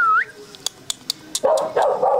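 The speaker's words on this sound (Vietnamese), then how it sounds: "mọi người ngắm cái con chó con bé tí này" A tiny white bobtail puppy gives a thin squeak, then several short, sharp barks spaced apart, before a louder, steadier whining yelp closes the clip up close.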